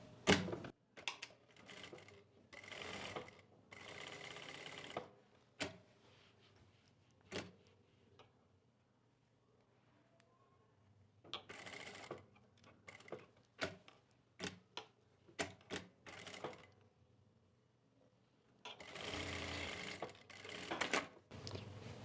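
A sewing machine stitches a folded hem on petticoat fabric in short separate bursts of rapid mechanical whirring and clatter, with quiet pauses and handling noise between runs.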